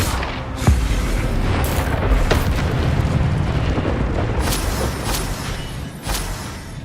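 The Incendio fire spell in a Harry Potter video game unleashes a loud, sustained roaring whoosh of flame with crackling bursts and several sharp pops, filling the whole stretch without any talking.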